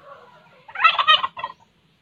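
Turkeys gobbling in their shaded farm pen, one close, loud, rapid rattling gobble burst lasting under a second, with a short second call after it and quiet before and after.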